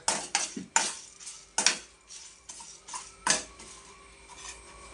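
Metal spoon scraping and clinking against a pan while stirring tamarind rice, a series of sharp irregular scrapes and taps, close and clear, fading toward the end.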